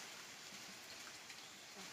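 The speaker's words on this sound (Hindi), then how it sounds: "बहुत ज़्यादा बारिश हो रही है" Heavy rain falls as a faint, steady, even hiss of drops with no voices over it.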